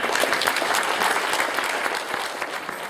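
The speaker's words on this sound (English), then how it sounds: "how about a great hand of applause for the music we've enjoyed so far" A dinner audience at a Liberal party event applauds the musicians, with a brief burst of loud, dense clapping from a full room.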